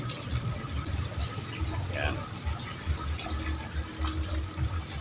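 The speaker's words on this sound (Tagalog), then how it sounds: "Lagyan natin ng tubig. Punuin nyo lang." Water pours into a plastic bottle for a foam hydroponic setup, a continuous splashing fill with a faint rising gurgle, under low background noise and someone talking.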